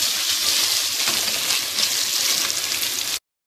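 White rice frying in a pot and being stirred, giving a steady, bright sizzle with soft scraping, fairly close and even in level, which cuts off abruptly near the end.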